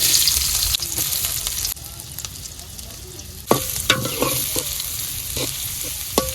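Papaya and spice paste fry in hot oil with a loud, steady sizzle, while a utensil repeatedly knocks and scrapes against the pan in an uneven stirring rhythm.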